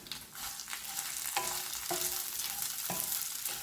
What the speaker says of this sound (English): just saute everything with a little oil